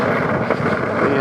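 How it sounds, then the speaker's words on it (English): Wind gusts buffeting a microphone outdoors on a rainy day during a skateboarding session, a steady broadband rush that fills the whole moment with no voices. "It's windy."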